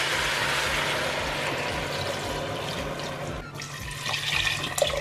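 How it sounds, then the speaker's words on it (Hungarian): Water poured into a soup pot, a steady rushing splash that stops briefly partway through and then resumes as lighter trickling. "És most öntöm majd fel vízzel."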